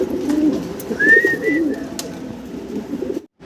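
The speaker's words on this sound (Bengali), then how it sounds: "ব্ল্যাকলেস শার্টিন কবুতর আমরা দেখতেছি ভাইয়ের কাছে, বেবি সহ আছে একটা পেয়ার" Pigeons at a fancy pigeon farm, including a pair of black-lace satinette pigeons with young, coo softly and continuously close by, with a few brief higher calls over the cooing.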